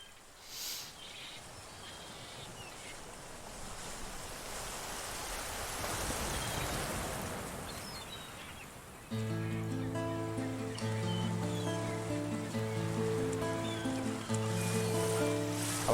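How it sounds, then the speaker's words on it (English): A broad, hissing wash of ocean waves fills the intro of an Angra song, swelling and receding before acoustic guitar music enters partway through and continues over it. "the ocean sound you hear too"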